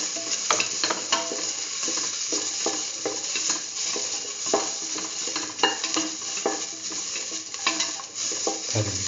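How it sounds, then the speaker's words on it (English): Shallots and salt sautéing in a pan for cauliflower chayote rice, with a steady sizzle of frying and repeated scrapes and clinks of a spoon stirring against the pan, close and continuous. "thoroughly saute"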